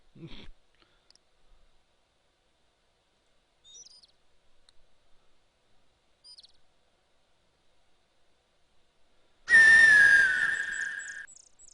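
Loud bird whistling call from the video game Quest for Glory 4, a bright descending whistle with chirps that bursts in suddenly near the end after a long quiet stretch of faint clicks.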